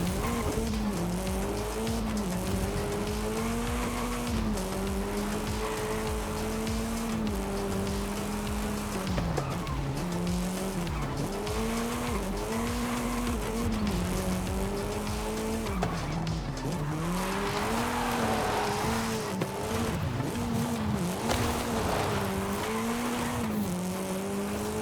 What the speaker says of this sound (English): You can almost hear the giant wheels of the monster ghost.